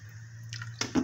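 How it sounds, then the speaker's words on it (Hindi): Water boiling in a cooking pot makes a few soft bubbling pops and gurgles, growing slightly toward the end, over a quiet steady low hum. "आप सब देख सकते हैं पानी को उबाल आ रहा था"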